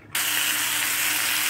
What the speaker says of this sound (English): Wow, look at that sizzle